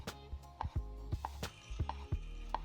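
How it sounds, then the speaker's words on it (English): A knife slices a soft, slightly overripe avocado into thin pieces on a cutting board for a California sushi bowl, giving a series of sharp, evenly spaced taps against the board, close and clear with no talking. "Now you want to slice the avocado into thin slices that are about 1 to 2 millimeters in thickness."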